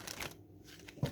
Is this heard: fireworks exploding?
no